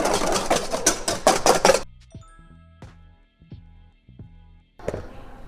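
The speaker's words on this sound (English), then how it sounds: "Continue to whisk until that's mixed in" Meringue with sugar is whisked briskly in a bowl: quick, rhythmic scraping strokes for nearly two seconds, then quiet with a few light clinks and taps, and a brief final swish.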